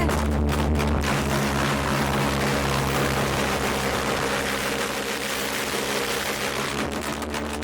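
A homemade propane jet engine built from pipe fitted to a leaf blower roars continuously and loudly up close, a steady dense rushing drone with a low hum underneath.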